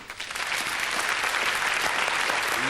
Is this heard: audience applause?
yes